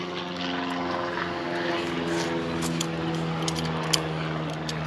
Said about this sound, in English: Sorry about the helicopter.